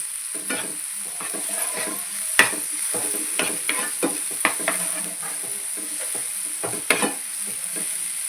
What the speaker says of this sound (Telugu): అది కూడా వేసుకొని మొత్తం ఒకసారి తిప్పుకోవాలి